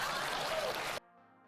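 Applause as a short burst of steady broadband clapping, fairly loud, cutting off abruptly after about one second into near silence with faint tonal hum.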